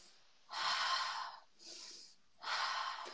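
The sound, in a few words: abdominal breathing demonstration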